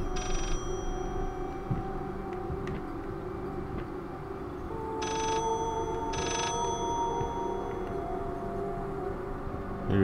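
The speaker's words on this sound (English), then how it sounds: "Can you hear the phone?" A telephone rings in the horror video game Layers of Fear, giving short repeated bursts of ringing over a steady tonal ambient drone, with no one talking.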